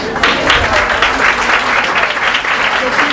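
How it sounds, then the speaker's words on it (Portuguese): Audience applause at a nursing-week event in a hall: dense, steady clapping from a sizable crowd that starts abruptly and holds at a loud level for a few seconds. "com os aplausos de vocês"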